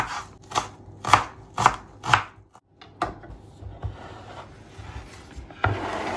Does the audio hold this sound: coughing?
no